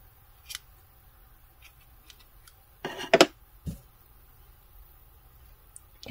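Scissors snip through crochet yarn from a Dollar Tree teddy bear kit, with a brief double cut near the middle and a faint click after it, against an otherwise quiet room.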